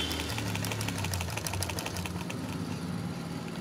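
A sewing machine under repair runs on test stitching fabric, giving a fast, steady mechanical clatter and whir at moderate to low volume with no voices.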